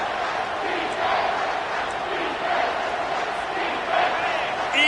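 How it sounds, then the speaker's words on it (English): In a college football video game, Georgia at Michigan, a simulated stadium crowd roars steadily on third down, a dense, loud, continuous wall of cheering that swells slightly in waves. "this crowd is bringing down the house"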